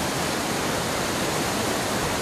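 Bubbling, falling, swirling water: a steady, dense rushing roar like a close waterfall or stream, continuous and even throughout.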